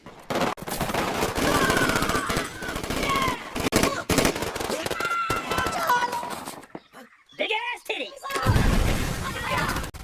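Rapid bursts of gunfire crackle through a chaotic film scene with rebels, voices shouting over the shots before a brief lull and another loud burst.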